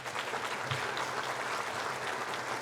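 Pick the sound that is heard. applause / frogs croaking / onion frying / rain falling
applause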